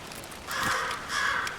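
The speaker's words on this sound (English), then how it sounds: "Okay, so we have a crow somewhere." A crow caws twice in Alan Wake 2, hoarse calls set somewhat far off over a steady ambient hum, the second call slightly fainter.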